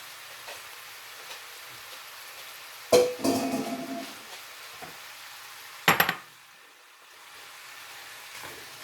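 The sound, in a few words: apples stirred and cooking in a pan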